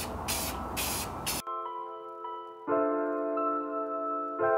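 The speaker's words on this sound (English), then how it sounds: "Second coat, here we go." A short, loud burst of spray paint hissing onto Honda Aero 50 scooter wheels for a second coat, stopping abruptly and followed by a quiet stretch with a steady tonal hum.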